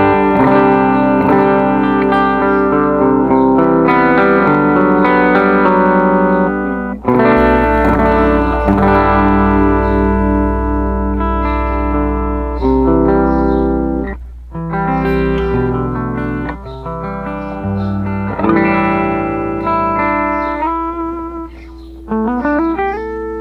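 An electric guitar played through a Helix HX Stomp with a stereo effect rings out in sustained, layered chords and melodic phrases, loud and shimmering with modulation, alone without talk.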